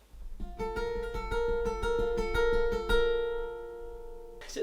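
Guitar plays the end-of-verse riff of a song as a run of crisp plucked notes over ringing chords, fairly quiet and unaccompanied, ending with a brief strum.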